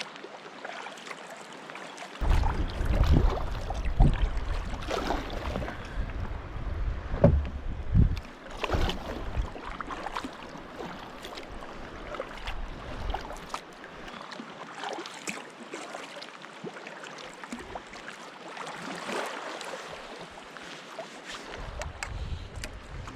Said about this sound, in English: Brian's starting to paddle, so I'm going to paddle with him because he's in the canoe